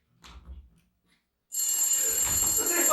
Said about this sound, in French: Le téléphone! Je réponds.